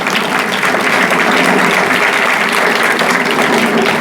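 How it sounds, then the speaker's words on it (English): Steady, loud applause from a large crowd at a grand opening event, a continuous dense wash of clapping that holds evenly throughout without any speech. "Let's give them a round of applause"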